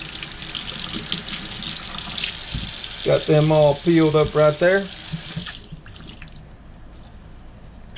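Kitchen tap running steadily into a sink while peeled potatoes are rinsed, a continuous splashing hiss that shuts off partway through, with someone talking over the water.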